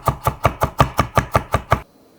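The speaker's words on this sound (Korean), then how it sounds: "통마늘 3개를 굵게 다져서" A knife chops whole garlic cloves coarsely on a board with ten crisp, evenly spaced strikes at a brisk rhythm, close and clear, then stops into near silence.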